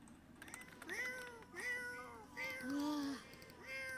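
A cat in The Sims 4 meows repeatedly, several close, clear, rising-and-falling calls in quick succession, with faint keyboard typing underneath.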